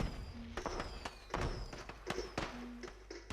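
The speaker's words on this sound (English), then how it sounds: "Actually, where are the fireworks coming from?" Fireworks in the video game The Lonely Castle: a string of sharp thumps and cracks bursting at irregular intervals, some close and punchy, over a steady low hum, with no voices.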